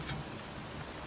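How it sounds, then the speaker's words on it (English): Steady rain falls in a cemetery in the video game Heavy Rain, a dense even hiss of drops on the ground, constant and enveloping over the short stretch. "It's cold. It's raining. I'm standing outside getting soaked."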